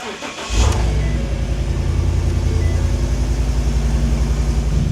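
A junkyard Ford F250 pickup, suspected flood car, cranks briefly then catches and settles into a steady, loud idle that rumbles on alone without talk.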